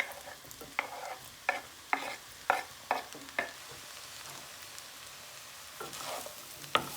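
Pineapple fried rice with prawns being stir-fried in a pan, a steady sizzle broken by a run of sharp, regular scraping strokes from the spatula, then quieter mixing with a couple more clanks near the end.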